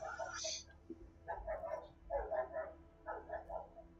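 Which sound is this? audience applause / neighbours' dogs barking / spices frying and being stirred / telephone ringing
neighbours' dogs barking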